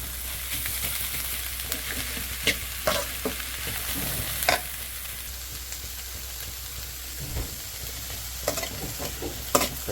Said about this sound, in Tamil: கொஞ்சம் பச்சை வாசனை போகிற அளவுக்கு வதக்கிட்டு